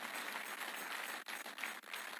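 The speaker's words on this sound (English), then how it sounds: "Oh, clap your hands, people." Congregation clapping hands during a church sermon, a dense continuous patter of many hands with brief dips, steady and fairly loud throughout.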